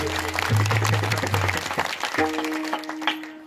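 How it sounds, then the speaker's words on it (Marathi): A crowd at a devotional kirtan gathering applauds loudly in a dense burst, with a sustained tonal drone and harmonium-like notes running beneath the clapping. "मला वाटतं यांच्यासाठी हळू टाळी नाही जरा जोरदार टाळी वाजली पाहिजे"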